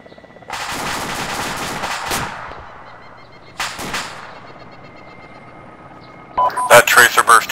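Machine-gun tracer bursts fire in the military video game Arma, with two loud, sustained rattling bursts separated by a pause, then a rapid cluster of sharp shots at the end.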